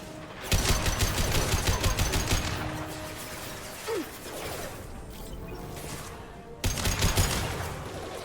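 Weapons fire in the sci-fi shooter Mass Effect 2: dense, sustained bursts of rapid shots, a brief lull with scattered sounds, then another loud volley at the end.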